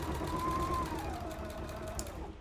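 A sewing machine stitching with a continuous close motor whir and a rapid rhythmic needle chatter, holding steady throughout before easing slightly near the end.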